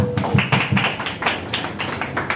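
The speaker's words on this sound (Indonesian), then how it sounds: "Beri tepuk tangan dong." An audience claps for a speaker at a Javanese literary community gathering, a steady burst of hand claps that swells and pulses in rough rhythm, loud and close with no talking over it.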